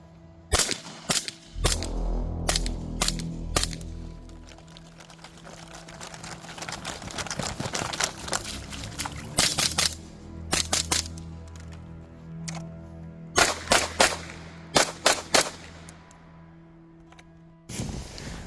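A 300 Blackout rifle fires during a timed course of fire, sharp loud reports in quick strings of several shots separated by short pauses, with echoing decay and no talk.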